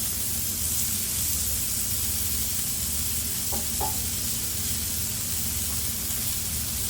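Steady, close sizzling of smashed ground beef patties frying on a Blackstone griddle, a constant hissing crackle with a couple of faint clinks partway through.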